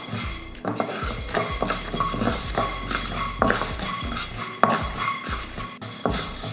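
About 25 grams of black peppercorns dry-roast in a pan for rasam powder, with close, repeated scraping and clinking as a spoon stirs and the dry peppercorns rattle against the metal, with no voices.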